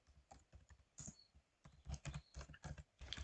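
Fingers typing on a computer keyboard while writing JavaScript code, quick uneven bursts of close key clicks with short pauses between runs.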